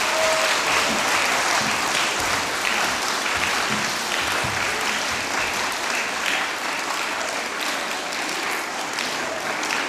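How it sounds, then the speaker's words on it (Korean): Sustained audience applause follows a children's choir performance at a children's song festival, a dense, steady clapping texture filling the hall for about ten seconds with faint voices underneath. "마지막에 나갈 때까지 박수를 쳐주셔야 됩니다."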